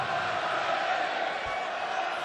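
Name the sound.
darts crowd cheering for a player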